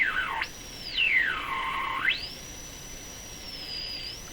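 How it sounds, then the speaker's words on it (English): A Sparton Model 5049 radio gives off a steady electronic whistle that sweeps down and back up in pitch as its local oscillator is tuned, then holds a high tone. The whistle is alone, with no voices. "So that's varying the frequency of the local oscillator"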